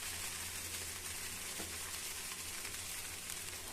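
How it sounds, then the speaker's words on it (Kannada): A dosa roasting in oil on a hot pan gives a steady, even sizzle, close and continuous throughout, with no voices. "ದೋಸೆ ಸ್ವಲ್ಪ ರೋಸ್ಟ್ ಆಗಬೇಕು."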